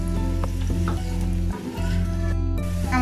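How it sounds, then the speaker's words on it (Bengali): Onion frying in oil with chopped garlic and slit green chillies, a dense, steady sizzle held close and loud throughout, with a few stirring scrapes and a brief dip in the middle. "এখন পেঁয়াজটা আমি একটু লাল করে ভেজে নিচ্ছি।"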